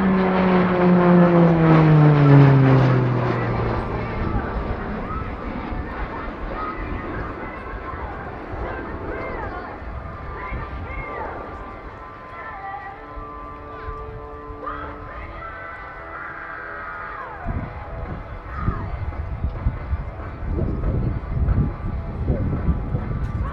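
A Hellenic Air Force T-6 propeller trainer performs a triple roll at an air show, its engine drone loud at first with a falling pitch, then fading into a steady distant hum with crowd and ambient noise.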